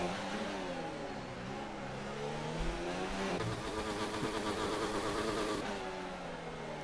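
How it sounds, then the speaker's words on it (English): Car engine revving in an F2 racing video game at Singapore, the sound of Toxic Tomatoes' car: a continuous harsh, buzzing engine note rising and falling through gear changes, steady and moderately loud with no talk. "I want to let you guys listen to that awful rev sound on Toxic Tomatoes' car"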